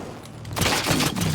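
A burst of rapid gunfire from a gun in a video game erupts loudly after a brief quiet moment and continues as dense, close shots.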